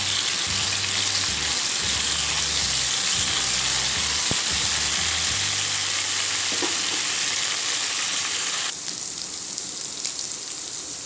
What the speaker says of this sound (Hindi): लहसुन अदरक का पेस्ट फ्राई हो चुका है।